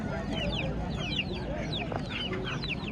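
Chickens and roosters cluck and call continuously at a busy poultry market in Margilan, Uzbekistan, many birds overlapping at close range over a dense background hubbub.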